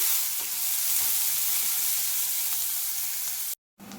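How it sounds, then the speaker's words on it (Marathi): Onion frying in a pan gives a continuous, even sizzle, close and moderately loud, with no voices. It cuts to a brief silence just before the end. "कांदा छान भाजून घ्यायचा."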